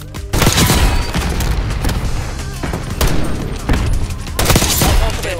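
Loud rapid gunfire and booming blasts fill a Black Ops 6 Search and Destroy match, with dense bursts and several heavy shots close in a noisy game mix.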